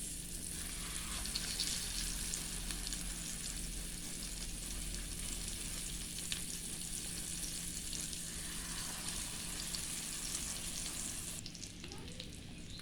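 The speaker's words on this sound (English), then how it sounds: "Now I'm going to brown my Salisbury patties." Salisbury steak patties browning in a pan make a soft, even, continuous sizzle, fairly faint and unbroken, easing slightly near the end.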